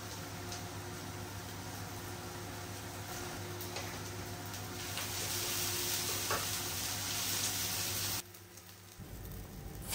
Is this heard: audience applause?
no